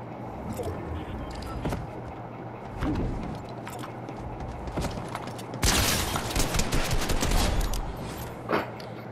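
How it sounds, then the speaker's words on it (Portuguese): Gunfire erupts in the Fortnite video game, with scattered shots followed by a loud, dense burst of rapid automatic fire near the end. A faint voice can be heard at times. "Ó, já começa me dando tiro"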